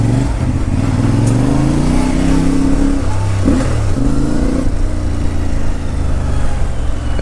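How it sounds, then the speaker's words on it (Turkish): A car's engine rises and falls on a road, partly masked by the steady, loud, close drone and gear-shift revving of a CFMoto 450 MT motorcycle being ridden. "Araba geliyor lan, tam çıkacağım yere."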